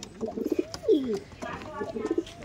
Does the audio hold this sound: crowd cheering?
no